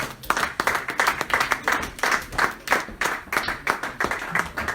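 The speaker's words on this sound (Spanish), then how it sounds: "Dele palmas al Señor" Church congregation clapping hands in rhythm during worship, a crowd of many hands striking a steady, evenly paced beat at moderate loudness, continuing throughout without speech on top.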